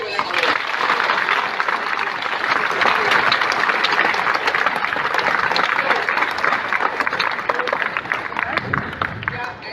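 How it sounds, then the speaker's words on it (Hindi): A school seminar audience of children breaks into loud, sustained applause, a dense wash of many hands clapping together for about ten seconds with a murmur of voices underneath. "एक बार शानदार तालियां भगवान के लिए बजाएंगे"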